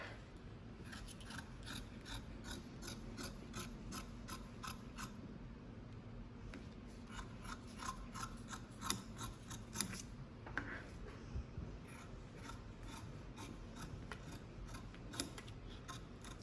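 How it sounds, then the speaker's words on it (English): Scissors cut through fabric pinned to a face mask pattern, giving repeated quiet snipping and crisp shearing strokes in a steady rhythm, close and faint in an otherwise quiet room with no talk. "So I have it laid out on the fabric and secured with straight pins, and then I can cut it out."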